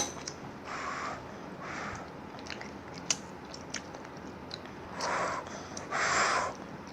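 A young child bites into and chews food at close range, with soft wet mastication bursts recurring in clusters over a quiet background, no speech.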